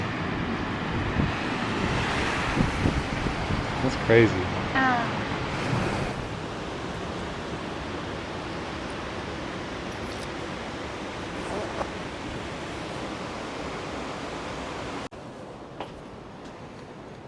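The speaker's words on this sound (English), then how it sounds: "the pool is the ocean. Yeah, like that's us. That's the ocean." Ocean waves crash and surge at the foot of Uluwatu's cliffside beach in Bali, a continuous loud wash with wind buffeting the microphone and brief voices over it.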